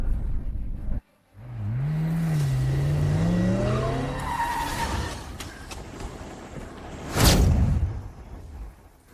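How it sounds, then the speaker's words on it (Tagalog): A car speeds away with its tires squealing in a rising, wavering screech, loud and close, ending with a burst of rushing noise. "Kotse ni Shen Huiyuan, takbo"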